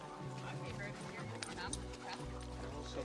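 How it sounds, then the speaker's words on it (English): Several dogs playing together on a shaded trail, yips, whimpers and short barks coming in quick bursts nearby, mixed with ambient voices and footsteps. "Oh, a dog party."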